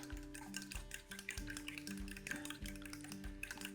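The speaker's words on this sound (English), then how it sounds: "I think we'll use 3 eggs in this omelet. Give that a little whisk." Three eggs are whisked in a bowl, giving a quick, steady run of soft rhythmic taps and scrapes, fairly faint, over quiet tonal background sound.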